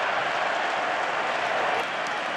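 Stadium crowd at a UFL football game between the Michigan Panthers and St. Louis Battlehawks roars in a steady, dense wash of cheering and noise, loud and sustained throughout.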